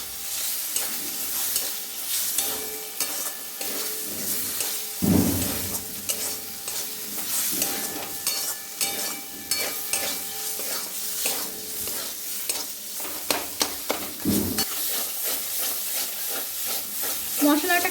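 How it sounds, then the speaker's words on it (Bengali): Masala with fried potatoes sizzles in hot oil for chana masala, a steady frying hiss with scraping stirring strokes throughout, close and fairly quiet, with no voices. "মশলাটাকে একসাথে ভালো করে ফ্রাই করতে হবে।"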